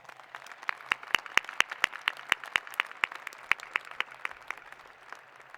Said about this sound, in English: let's give them another round of applause, right?